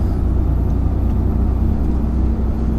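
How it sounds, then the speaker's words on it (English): A loud, steady HGV truck engine drones from inside the cab, with a deep low rumble and constant road noise and no voices. "This truck is so loud."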